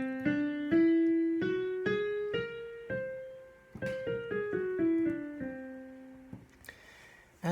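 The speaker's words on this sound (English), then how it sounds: "It's called the whole tone scale." A whole tone scale played note by note, first rising then falling, each tone clear and ringing with a soft decay, heard alone at moderate level with a brief extra note at the very end.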